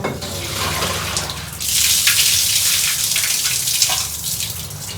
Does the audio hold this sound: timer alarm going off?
no